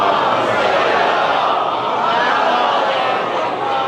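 A congregation at an imambargah in DHA loudly recites salawat for the Prophet in unison, a dense, sustained roar of many voices that holds steady for several seconds.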